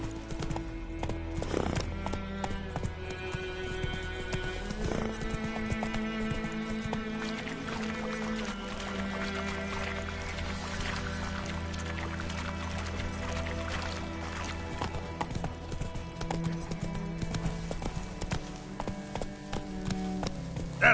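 Roach, Geralt's horse in The Witcher 3: Wild Hunt, gallops with a fast, continuous clip-clop of hooves, close and steady over a music score, with a brief whinny and no talking.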